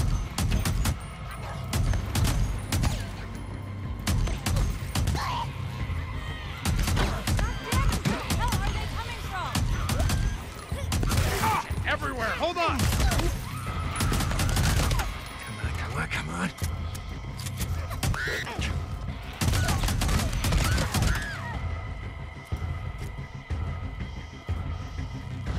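Gunfire in the open-world survival game Days Gone rings out as repeated sharp shots and bursts mixed with loud game noise, while someone talks over most of it.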